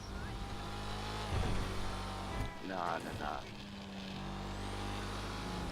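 A GTA 5 car engine drones steadily with a shifting pitch, and a voice speaks briefly over it.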